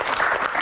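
A studio audience at a talk show claps together in a steady, dense patter that lasts under a second, fairly loud and close, with no voices over it.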